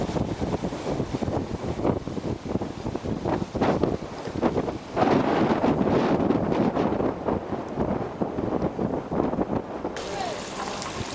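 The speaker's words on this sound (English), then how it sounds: "Pretty good wind blowing." Strong wind gusts across a harbor pier and buffets the microphone in a loud, steady roar that swells midway, with faint water and boat sounds beneath.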